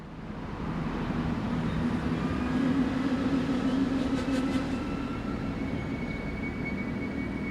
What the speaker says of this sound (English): 3 Class 5022 units make up the 1616 service from St. Gotthard to Graz, as they approach the station at exactly 5 p.m.